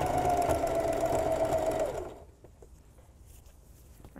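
A sewing machine stitching a t-shirt runs in a fast, steady whir at close range for about two seconds, then stops, leaving quiet room tone with faint handling sounds.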